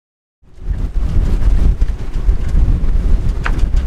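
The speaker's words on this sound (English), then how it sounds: "This is where it gets hairy when the wind starts coming into the anchorage." Strong wind blows into a sailboat anchorage, a loud, steady roaring rush of gusts buffeting the microphone that starts abruptly and holds for several seconds, with no voices.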